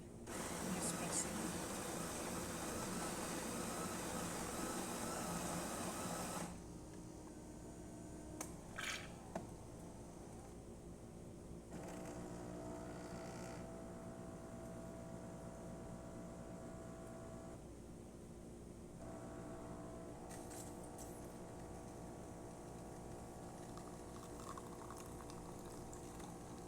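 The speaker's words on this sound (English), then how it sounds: "I'm just going to pull a shot to show you that everything's working" A KitchenAid KES8558 espresso machine, just serviced and tuned up, pulls an espresso shot: a loud hissing, boiling burst at first, then a quieter steady pump hum with gurgling and faint clicks continuing for the rest of the pour.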